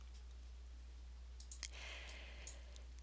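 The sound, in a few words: computer mouse clicking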